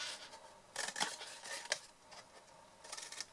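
Scissors snip through folded paper, cutting the corner angles off a larger fancy fold: several quiet, crisp cuts in short bursts with pauses between, close by and with no talking.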